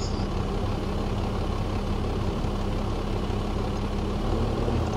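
A truck engine drones steadily while towing a trailer, close and continuous, with a low hum and broadband road noise holding even the whole time and no voices.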